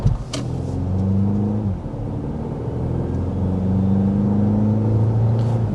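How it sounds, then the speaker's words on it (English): A 2025 BMW X1 SUV accelerates toward highway speed, its engine hum rising in pitch in smooth steps with a low steady road rumble beneath, heard from inside the cabin. "we are speeding up to 55 miles per hour"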